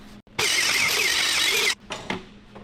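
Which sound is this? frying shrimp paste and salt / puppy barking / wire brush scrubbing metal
wire brush scrubbing metal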